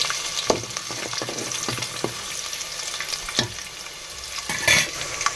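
Peanuts frying in oil crackle and sizzle steadily, with frequent scraping stirs of a spoon against the pan and sharp pops scattered through, close and fairly loud with no talking.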